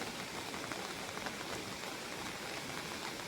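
Steady rain falls beside a river in a Konkan village during the first monsoon showers, a dense, even wash of raindrops heard alone with no voices.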